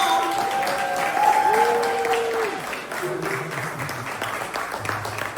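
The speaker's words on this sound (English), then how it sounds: "let's clap it up for my mom" An audience at a Father's Day step show and brunch claps steadily to welcome an arriving guest. Sustained applause runs throughout, with music tones and faint voices underneath.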